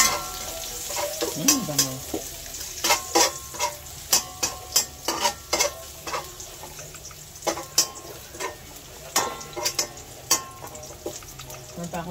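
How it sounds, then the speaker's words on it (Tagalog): Sinangag, garlic fried rice, fries in a pan with a steady sizzle, punctuated by repeated sharp scrapes and clacks of a spatula stirring against the metal, close up, and a brief voice speaks early on. "Nagsasangag."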